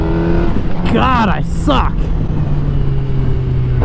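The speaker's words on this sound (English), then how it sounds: "Let's try a wheelie real quick." A motorcycle engine growls steadily up close, swelling into a short rising rev during a wheelie attempt, and a rider speaks over it.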